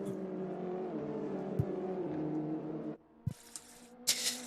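BMW JCW MINI race cars run through the final corner onto the start-finish straight of a circuit, a steady loud engine drone that cuts off sharply, followed by a few brief bursts and a hissing pass.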